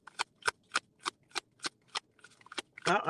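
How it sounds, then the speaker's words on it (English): A deck of tarot cards shuffled in a quick, even rhythm of crisp riffles, about ten in a row, ending in a louder, longer flutter of cards. "I don't even know if I shuffled enough"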